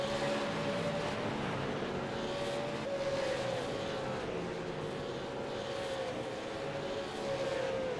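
Super late model stock cars racing at the Nashville Fairgrounds speedway, heard as a loud, continuous engine roar with a steady droning pitch that holds for the whole stretch, close and unbroken, with no voices over it.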